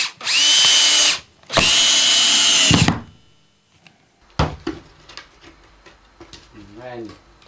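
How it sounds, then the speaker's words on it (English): Power drill driving black sharp-pointed carcass screws into 2-by-1 framing timber to join pieces: two loud sustained whirring bursts, the second ending in a low bog as the screw seats, followed by scattered knocks and brief talking. "and then to screw them together"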